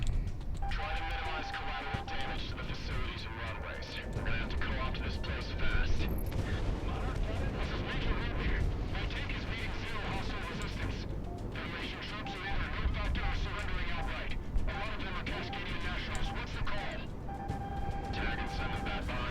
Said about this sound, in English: Missiles everywhere.